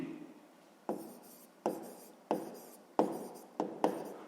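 Pen writing out a sixth-grade math exercise on paper, six quick scratchy strokes in an irregular rhythm, close and quiet, no talking.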